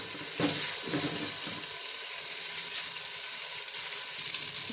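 Ground ginger and green chili paste sizzles in hot oil, a steady bright hiss with a few soft stirring clunks near the start, close and continuous with no talk.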